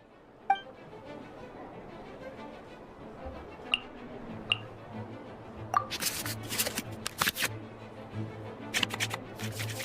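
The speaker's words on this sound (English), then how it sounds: "we can select any number of cards in our hand to shuffle back into the draw pile" Cards being shuffled back into the draw pile in the Genshin Impact card game, a quiet series of soft flicks and clicks with a few sharper ticks, low and without speech.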